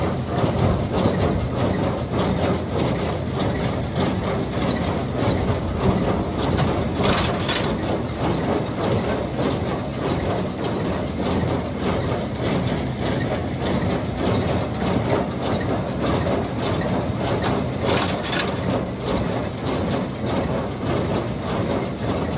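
Tractors pull Massey Ferguson 1840 small square balers through wheat straw, making a continuous heavy mechanical clatter and drone with faint repeating knocks beneath it.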